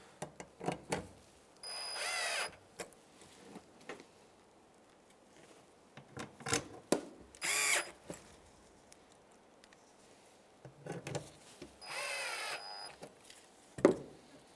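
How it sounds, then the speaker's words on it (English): A cordless driver reinstalls screws in a crisscross pattern on the fuel pump cover of a 2003-2011 Honda Element, giving several short, fairly faint whirring bursts separated by quiet handling noises. "go ahead and reinstall our screws. So we're going to do it in a crisscross"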